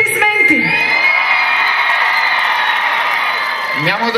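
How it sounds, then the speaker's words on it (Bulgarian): Concert crowd in Bulgaria roars with cheers, whoops and clapping, a loud continuous swell of audience noise, with a brief shouted voice at the start and end. "Къде са първите аплодисменти?"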